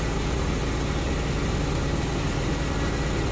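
Suzuki DA64W with a K6A engine idling steadily, a constant close engine drone with no voices.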